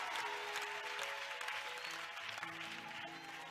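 A church congregation applauding steadily, with dense clapping and some cheering, held at an even level for a few seconds and fading slightly at the end.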